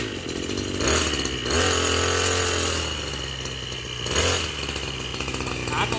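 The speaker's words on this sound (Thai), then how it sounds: "ลองเป่าใบไม้เล่นๆก่อนนะครับ" A Maruyama BC260T brush cutter's small two-stroke engine drives a homemade blower fan to blow leaves, buzzing loudly and rising in two revs before settling back to a steady, rough whine, with someone talking faintly.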